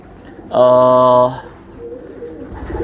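A pigeon gives one loud, close coo lasting under a second, followed by quieter background rustle and faint distant calls.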